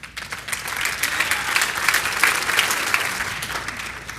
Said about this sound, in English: stand up and give a big round of applause to Amber Lupton